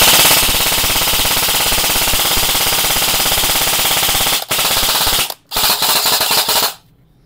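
An E&C DDM4 airsoft rifle fires in long rapid bursts, loud and close, with two short pauses before it stops abruptly near the end.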